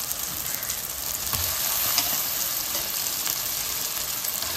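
Chicken sizzles in a pan of coconut masala, a constant bright frying hiss with a few clicks and stirring sounds, close by and with no voices.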